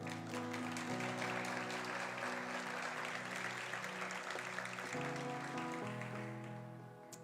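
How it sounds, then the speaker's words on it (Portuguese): Applause from a church congregation during a conference session, steady and full under sustained musical chords, tapering off toward the end. "Se for para Jesus, pode aplaudir."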